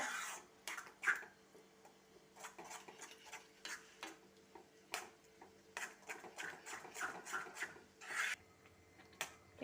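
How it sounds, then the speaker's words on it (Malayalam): A spoon scrapes and stirs a thick ragi and jaggery mixture in a pan, producing quiet, irregular rasping strokes and clicks repeated throughout, close by and without talk. "ഇതൊന്ന് നല്ലപോലെ ഇളക്കി മിക്സ് ചെയ്ത് ശരിക്കും ഇളക്കി കൊടുക്കണം"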